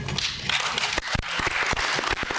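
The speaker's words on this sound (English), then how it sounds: "Unprompted applause." Unprompted audience applause at a leadership conference on Macedonia, a dense, steady patter of many hands clapping throughout, with a few sharper individual claps standing out near the front.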